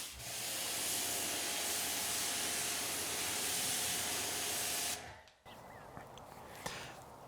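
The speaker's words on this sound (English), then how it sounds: "We're going to spray some soap on it." A steady, loud hiss of soap being sprayed onto a car runs for about five seconds, then cuts off abruptly, leaving quieter dripping and faint handling noises.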